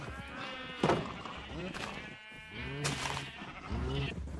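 Repeated Minecraft sheep bleats, wavering and nasal, sound close and clear over steady game ambience, several calls spread across the moment.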